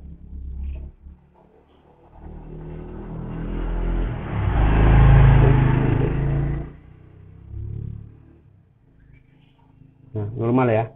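A Honda Beat ESP scooter engine with a fault that makes it stall at full throttle is revved gently: a low hum swells to a peak and falls away, then rises briefly again, heard up close.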